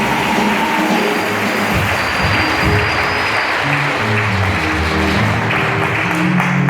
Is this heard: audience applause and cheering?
yes